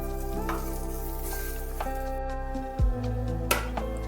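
Eggplant frying in a wok with only a little oil, a continuous close sizzle carrying on steadily alongside a loud low hum and a sharp clink near the end, with no talk.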